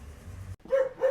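A dog barking outdoors in a rubbish-strewn natural spot in a poor rural region of Italy, two clear barks after low rumbling background, fairly close and loud.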